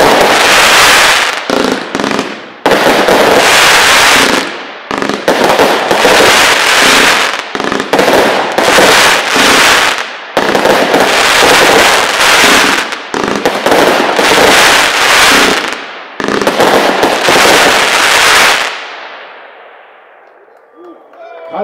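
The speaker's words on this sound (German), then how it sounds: "49 Schuss, 25 Sekunden Effektdauer, 55 Meter Effekthöhe, Farbenfront, frohe, bunte Dreien, okay, mit so silbernen, chrysanthemen Effekten" A 49-shot fireworks battery with silver chrysanthemum effects at a pyrotechnics product demonstration finale, firing loud, rapid bursts in quick volleys with brief gaps, then fading into crackling echoes.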